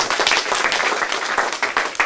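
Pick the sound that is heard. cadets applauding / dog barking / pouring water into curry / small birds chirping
cadets applauding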